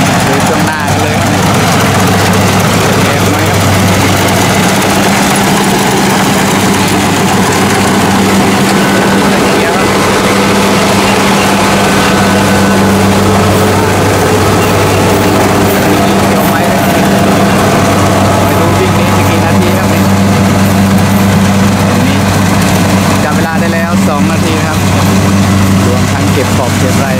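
A Kubota rice harvester's engine runs steadily at loud volume with a constant low drone, while someone talks over it.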